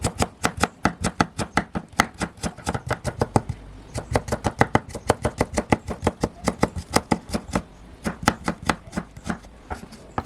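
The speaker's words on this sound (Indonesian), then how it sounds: "Setengah buah wortel yang sudah dikupas dan dicuci bersih kita potong memanjang ya" A knife cuts a peeled, washed half carrot lengthwise on a board in a steady run of sharp, close chopping knocks, dozens of rapid regular strokes with no talking.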